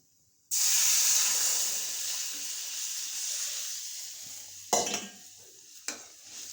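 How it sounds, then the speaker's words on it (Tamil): Pepper and cumin rasam hits a hot pan and bursts into a loud, steady sizzle that slowly fades, with a couple of sharp clinks of a utensil near the end. "இப்போது இதில் நம்ம ரசத்தை விட்டுரும்."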